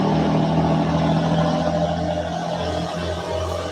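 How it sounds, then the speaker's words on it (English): A loud truck rumbles past outdoors, a heavy low engine drone that holds steady and then slowly fades, with no talking over it. "Hold on, this loud ass truck about to come."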